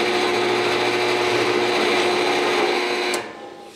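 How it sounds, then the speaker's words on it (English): A drill press bores into wood with a loud, steady whining drone and a constant motor hum that runs close for a few seconds before cutting off and winding down. "So I'm going to take this over to the drill press first."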